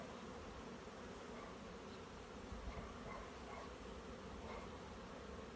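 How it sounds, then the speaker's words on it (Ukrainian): Steady, dense buzzing of many bees at a hive, continuous and fairly close, with a low humming drone throughout and no voices. "подивіться, як бджола працює"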